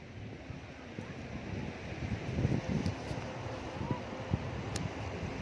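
Sea waves roll in and advance up the shore near Uncha Kotda, a soft, low surging wash mixed with wind buffeting the microphone and faint voices in the distance.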